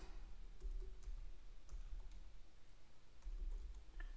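Keys clacking on a computer keyboard as a command is typed into the Windows command prompt, a quick run of close, crisp taps and clicks with brief pauses and no talk.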